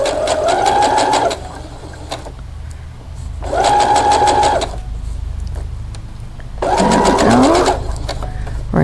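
A sewing machine stitches a clamshell quilt in three bursts of steady, rapid running, each a couple of seconds long, with short pauses between and a low hum underneath.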